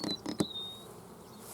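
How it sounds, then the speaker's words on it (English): Honey bees buzzing around a hive being robbed, a few short bursts of buzzing up close at the start, then a thin steady whine fading into faint background hum. "see the bees flying around, trying to find a way to get in"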